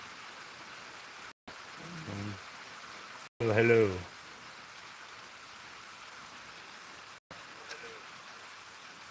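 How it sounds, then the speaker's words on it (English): Rain falls outside in a soft, steady hiss throughout, faint and distant, with a voice briefly speaking over it and a few short dropouts in the sound. "It's raining out"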